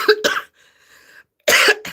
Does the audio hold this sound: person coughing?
yes